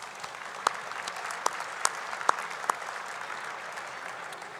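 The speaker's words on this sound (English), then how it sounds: "I want to take a moment to give a round of applause to the Broadmoor staff for that wonderful lunch" A banquet audience claps for the Broadmoor hotel staff after a luncheon, a steady wash of hand claps with a few sharper, louder claps standing out, lasting throughout at moderate level.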